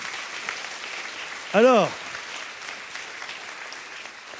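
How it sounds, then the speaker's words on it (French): Church congregation applauding during a sermon, a steady, moderately distant wash of clapping throughout, briefly interrupted by a man's spoken word over it. "que ceux qui le croient fassent retentir un puissant applaudissement"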